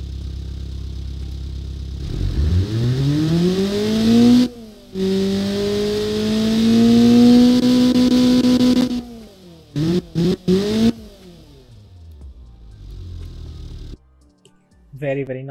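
A tuned Honda D16V1 engine with a 1.8-inch exhaust starts up and revs, rising through long sustained pulls, then a few short sharp blips before settling back to a lower idle.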